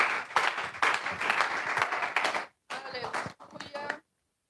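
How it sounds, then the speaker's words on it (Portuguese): A church congregation claps in praise, a dense, steady burst of many hands for about two and a half seconds, then a short gap before quieter, scattered clapping with voices mixed in fades out. "Aplauda o Senhor"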